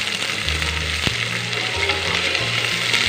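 Ground cumin and spices frying in oil for a beef curry, a loud steady sizzle broken by a few spoon-and-pan scrapes and knocks, with no talking.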